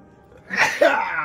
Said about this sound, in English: I have a sneeze.